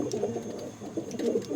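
Andhra racing pigeons coo softly in low, rolling murmurs, a few birds close by but quiet, without any talk.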